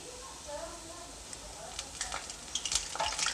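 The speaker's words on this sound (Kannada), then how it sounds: "ಎರಡೂ ಕಡೆನೂ ಸ್ವಲ್ಪ ಬ್ರೌನ್ ಕಲರ್ ಬರೋವರೆಗೂ ನಾವು ಇದನ್ನು ಎಣ್ಣೆಯಲ್ಲಿ ಕರ್ಕೋಬೇಕಾಗುತ್ತೆ" Urad dal vadas frying in hot oil while being flipped, with a steady soft sizzle and scattered crackling pops that grow busier toward the end, close up and moderately quiet.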